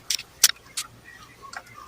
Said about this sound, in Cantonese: 我會用一個金羅漢果將佢敲開啦，